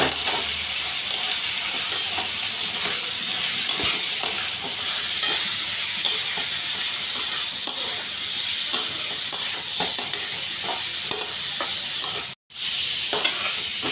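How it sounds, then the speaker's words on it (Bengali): Amaranth stems with salt and turmeric fry in a pan, producing a loud continuous hissing sizzle with frequent stirring scrapes and a brief dropout near the end. "এরপরে অল্প নুন দেবো, হলুদ দেবো। ভালো করে কষিয়ে নেব।"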